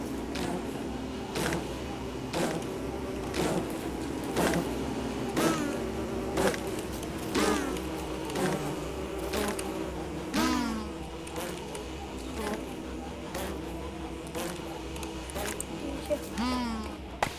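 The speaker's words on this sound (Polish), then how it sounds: "Widzieli, morduje pszczoły." A steady electronic drone of buzzing bees in Don't Starve Together with a looping game soundtrack underneath, while a person talks over it continuously.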